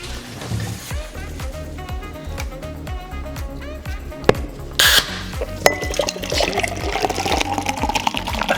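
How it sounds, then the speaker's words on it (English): Nitro coffee pours steadily into a glass with a soft rushing hiss, a couple of clinks partway through, and a rhythmic thumping beat underneath. "That was a good pour."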